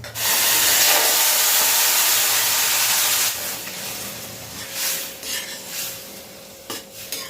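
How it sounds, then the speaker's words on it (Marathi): Boiled water is poured into a pan of mango sweet mixture, producing a loud, steady rushing hiss for about three seconds, followed by quieter stirring and light clinks of utensils against the pot. "उकळलेलं आहे पाणी ते आता आपल्याला घालून द्यायचं आहे"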